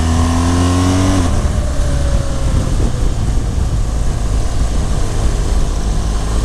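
Motorcycles ride past on a twisty road, a loud close engine roar whose pitch falls as a bike sweeps by, then a steady rush of engine and wind noise.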